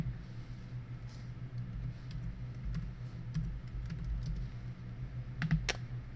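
Light keyboard typing enters search criteria on a computer, with scattered soft key taps over a steady low hum and room noise and a short cluster of clicks near the end.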